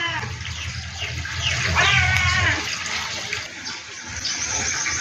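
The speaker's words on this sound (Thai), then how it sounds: "ขอไพ่เรื่องเสียงแมวเด้อผู้ชมเด้อ" A stray cat meows a few times, its wavering cries partly buried under a steady rush of running water.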